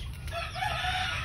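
Chickens cluck and a rooster crows faintly in a rural Philippine province against a steady low rumble and a high electronic whine.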